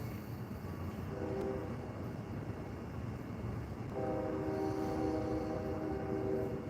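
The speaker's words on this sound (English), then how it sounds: "Can you hear that lonesome whistle blowing?" A distant train whistle sounds in two long, steady blasts over a constant low rumble of rail traffic, the second blast louder and fuller than the first.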